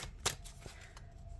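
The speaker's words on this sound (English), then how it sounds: "I will be doing some shuffling of the message, all the message cards in between the readings" Tarot message cards being shuffled by hand, a quiet close riffle with one sharper snap of cards near the start, then soft papery rustling, no talking.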